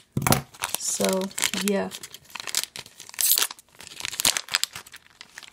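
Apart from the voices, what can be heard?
scissors cutting open a plastic Lego minifigure pack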